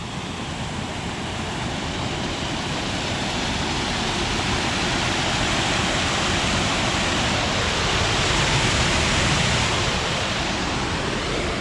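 A creek runs steadily toward an underground channel, its water making a continuous, even rush that stays close and fairly loud with no pauses and no voices.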